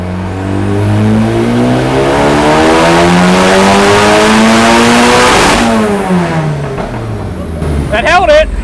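A turbocharged K24-swapped Miata screams at full throttle on a dyno, its loud engine note climbing steadily in pitch through a long pull before lifting off near the end, with a short voice-like burst at the close.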